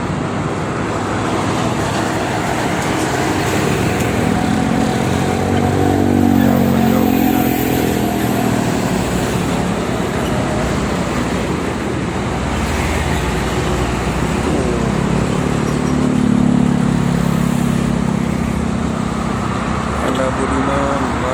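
Morning traffic on the Jakarta–Cikampek toll road, with many freight trucks, makes a steady, loud roar of passing vehicles. Low engine drones swell as heavy trucks go by, and a voice is heard faintly over it.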